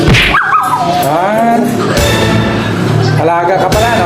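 A dog whimpers and yips close by while its owner chats to it in a playful voice, the dog's whiny vocalizations interleaved with and partly under the steady human talk.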